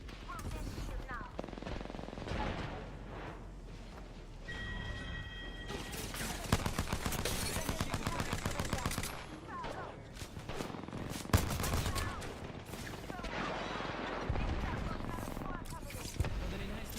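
Gunfire from the Apex Legends video game in a ranked solo match, with bursts of shots spread through a busy, dense mix and talk running over it.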